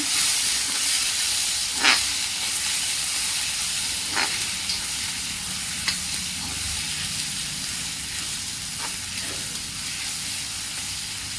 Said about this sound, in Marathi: दोन मिनिट टोमॅटो परतून घेऊ।